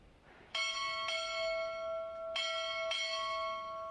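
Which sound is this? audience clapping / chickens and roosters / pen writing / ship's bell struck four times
ship's bell struck four times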